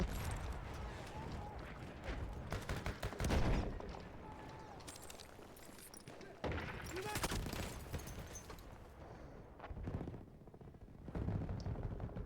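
Gunfire in the World War I shooter Battlefield 1, with dense bursts of rapid shots and heavy booms layered over a constant loud battle din, some louder volleys standing out, and no clear talking.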